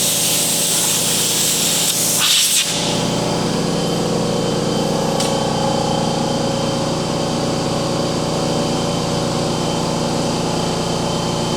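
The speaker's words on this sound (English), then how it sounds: "Let's get a little compressed air." A loud, continuous hiss of compressed air blasting onto a dry, rusty Jeep ball joint, close and steady for the whole stretch with one brief dip early on.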